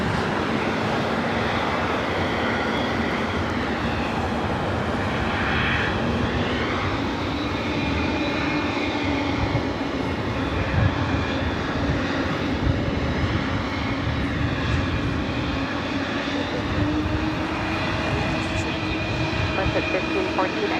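British Airways jet airliner at LAX, its engine roar steady and loud throughout with slowly shifting tones, and a voice faintly audible underneath.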